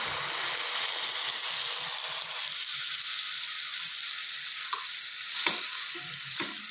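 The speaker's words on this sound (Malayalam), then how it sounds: "ഇനി ഇതാ കുറച്ച് പാലൊഴിച്ച് കൊടുക്കാം" Milk goes into beetroot frying in ghee, and a loud hiss and sizzle that softens partway through gives way to a few light scrapes and taps from stirring.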